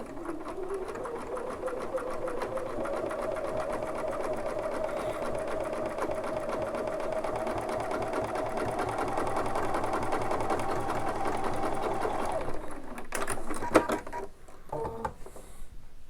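A Bernina sewing machine with presser foot #1 runs a reverse-pattern double stitch in one long, steady, even mechanical whir, close and loud. It stops near the end and is followed by a few clicks and handling noises.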